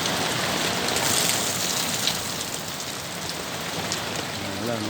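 Heavy rain pours steadily in Canela City, a loud, continuous hiss of drops on surfaces that stays close and unbroken, with faint voices underneath.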